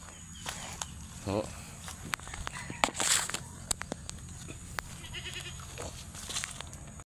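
A goat bleats a few times at moderate distance, with footsteps and crowing outdoors around it while people talk.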